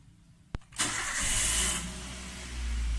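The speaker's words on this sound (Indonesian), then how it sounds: "kemudian kita hidupkan mesin, dan kita tahan injakan dari pedal rem" A car engine cranks and fires while the brake pedal is held down during a brake booster check, a sharp click followed by a loud catch and a steady, close idle.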